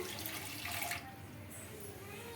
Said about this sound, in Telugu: ఇందులోకి వాటర్ అయితే వేసుకుంటున్నాను